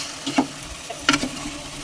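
Pieces of fish frying in oil for a Telangana-style fish curry, with a steady close sizzle and two short scraping knocks of a spoon stirring through the pan.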